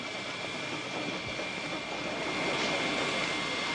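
A distant jet airliner roars steadily as it lands at an airport, a broad, even rumble and hiss that holds for a few seconds without a break.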